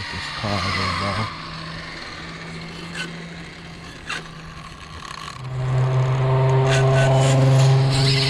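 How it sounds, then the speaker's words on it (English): A car passes nearby, its engine noise swelling and droning louder toward the end, with a brief voice early on. "Let this car go by."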